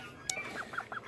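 Appleyard ducks on a farm, kept alongside chickens and turkeys, give several short, faint quacks and clucks in an irregular run against steady outdoor background noise.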